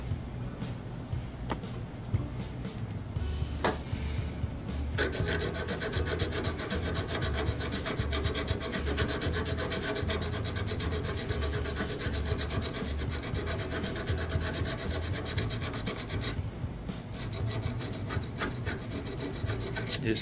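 Continuous rough rasping of a metal file scraping back and forth, knocking the burr off an auger bit, close and steady, with no talking.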